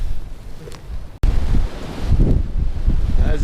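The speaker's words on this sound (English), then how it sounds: "As you can tell, it's pretty darn windy up here." Strong wind on a hilltop along the Metacomet Trail in East Granby, Connecticut, on a cold day, buffets the microphone in loud, steady gusts with a brief dropout, and faint voices come through underneath.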